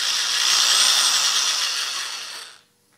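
A power drill spinning a flexible hone for porting an L98 Corvette TPI intake whirs at a high, steady pitch for over two seconds, then winds down quickly into near silence.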